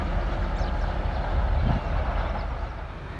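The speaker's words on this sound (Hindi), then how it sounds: "तो ये आई थिंक सो कोई फ्रीट ट्रेन है यहाँ पर, या कोई लाइट पावर होगी" A freight train locomotive or light engine rumbles at a Pakistan Railways station in New Multan, a steady low broadband drone that stays constant and fairly loud throughout, with no talking.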